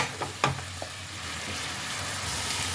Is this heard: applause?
no